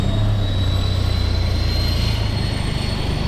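Aircraft engines spinning up near a marina while sailing out of Fort Lauderdale: a loud, steady jet roar with a thin high whine that rises slowly, heard alone and close.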